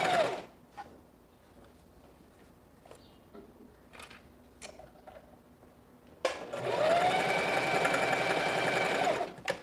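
A Singer Facilita Pro 4411 sewing machine, quiet with a few light clicks at first, then running in a loud, close, steady mechanical whir of rapid stitching for the last few seconds before stopping.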